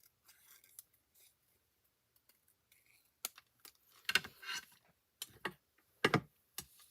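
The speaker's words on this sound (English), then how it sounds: "when you fussy cut, turn the paper" Scissors snipping paper while fussy cutting around a design for a handmade card: sparse faint snips at first, then a run of sharper, louder close-up cuts in irregular bursts.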